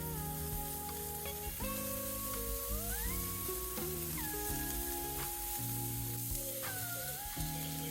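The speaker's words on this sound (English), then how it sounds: "to get a good sear on these burgers, and on they go" Burgers searing on a hot Weber Summit Kamado grill give a steady hiss, partly masked by louder tonal background music with gliding notes throughout.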